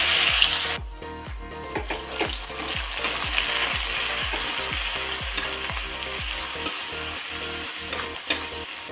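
Ground taro leaf paste goes into hot oil seasoned with nigella seeds and fries with a loud, continuous sizzle, while a spoon scrapes the pan in a quick, regular stirring rhythm; no voices.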